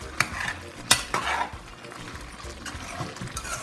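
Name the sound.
stirring vegetable soup in a pot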